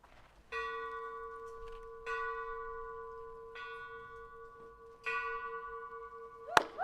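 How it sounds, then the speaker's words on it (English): The Ellington bell at a Santa Fe Prep commencement rings out four times, each clear metallic strike blooming and slowly decaying into the next, alone in a quiet setting. "to ring the Ellington bell 4 times"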